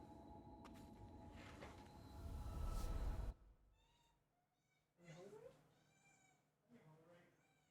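A pet cat meows a few times in a quiet room, short rising calls spaced apart, after a burst of loud game noise cuts off.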